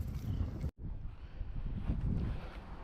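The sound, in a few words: strong wind outdoors at the water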